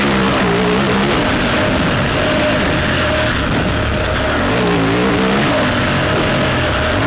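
An Aprilia RXV motorcycle on a ride in Waldzell, Austria accelerates hard, its engine snarling loud and close in a steady, continuous roar with rising and falling pitch.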